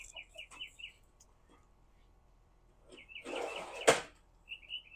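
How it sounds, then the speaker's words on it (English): Small birds chirp outdoors in short, high, repeated bursts, faint and somewhat distant, with a brief rustling noise partway through and long quiet gaps between calls. "I don't know if you can hear those birds chirping"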